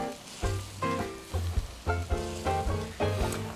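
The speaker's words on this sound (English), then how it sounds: "now we're going to start adding some of that really rich vegetable stock" Rich vegetable stock is poured into a roux cooking with okra, setting off a loud, close sizzle that surges in repeated bursts as the liquid hits the hot pan.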